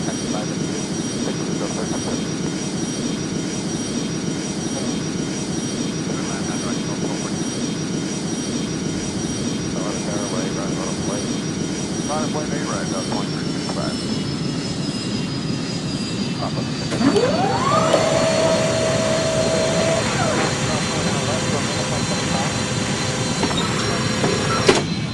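Airliner engines in the Airline Commander flight game, a steady jet whine and rumble holding throughout while taxiing, with a rising tone shift partway through, and radio chatter over the top.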